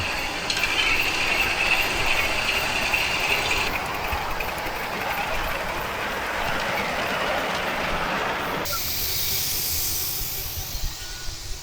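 A model Canadian Pacific K1A live steam locomotive runs on a track at a live steam spring meet, giving off a steady hiss with rumbling rail noise that shifts partway through.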